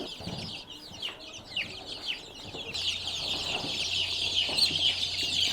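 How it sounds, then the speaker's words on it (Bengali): Chickens being caught and handled for Gumboro vaccination cluck in short, nervous bursts close by, over a steady background hiss and faint bird chatter, with no speech. "আমি আর আরেকটি মুরগি ধরে দেখাই"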